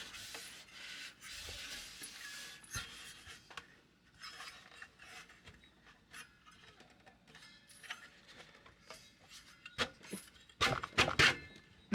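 Plastic cooling shroud sliding into an IceRiver KS0 crypto miner, a close series of soft scraping and rubbing clicks as the snug part is pushed in, with a few sharper knocks toward the end.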